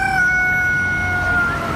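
A rooster crows at a plant and pet market, one loud, sustained, close call with a steady high tone and faint market bustle underneath.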